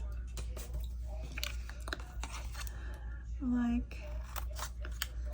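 Scissors snipping old scrapbook paper into tags, a series of close, crisp cuts and paper rustles over a steady low hum, with a brief spoken word in between.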